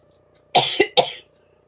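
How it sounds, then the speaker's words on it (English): A woman coughs two or three times in quick succession, close and clear against a quiet background, lasting about a second. "Now I'm coughing."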